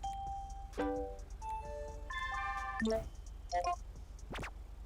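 A short electronic chime sequence of bright tonal beeps and a rising jingle, a callout-accept notification in GTA 5 with the LSPDFR mod, plays faintly over low background hum, with no speech.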